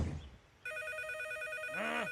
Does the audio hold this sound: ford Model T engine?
no